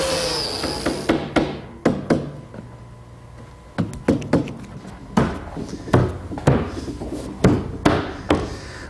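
A wooden face frame is tapped down onto a cabinet carcass over biscuits with a series of dull hammer knocks, which come in quick uneven bursts with short pauses between them.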